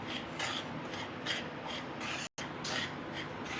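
Semolina roasts in oil in a pan, stirred with a repeated scraping and rasping rhythm, close and fairly quiet, with no voices.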